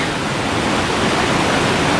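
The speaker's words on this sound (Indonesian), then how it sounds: "jadi ini adalah aliran sungai, mungkin dari Curug Cikawah ke Curug Leweran dan lanjut lagi ke bawah" River water rushes downstream from the Curug Cikawah waterfall in Pamijahan, Bogor, a loud, dense, steady roar filling the clip with no voices.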